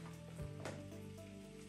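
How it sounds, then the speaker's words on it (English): Dawa and fish sautéing together in palm oil for a Nigerian okro soup give off a steady, close, dense sizzle with a faint stir partway through, lasting under two seconds with no talking. "I'll saute it together with the palm oil."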